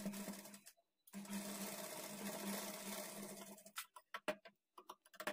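A sewing machine stitches the sleeve of a lined blouse: one continuous close whir lasting a few seconds, followed by short stop-start bursts of stitching with pauses between.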